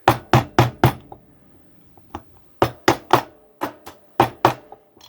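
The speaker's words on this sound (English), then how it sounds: "Little tap tap the screwdriver and get it all the way in there." Sharp taps drive a screwdriver to seat a part inside a Zebco Micro UL4 spinning fishing reel during servicing. The taps come close and crisp in quick groups of three or four, with pauses between groups and no voices.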